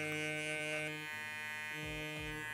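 A Kiepe Booster electric hair trimmer buzzes steadily with a high whine, and the tone shifts slightly as the blade meets hair, close up and with no talking.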